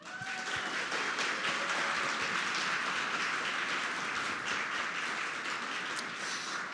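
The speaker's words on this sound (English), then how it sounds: "Please give another round of applause for everyone with us here in New York and joining us virtually." A conference crowd in New York claps at a closing awards session, sending up a steady, even wash of applause that holds at one level throughout, moderately loud and without voices.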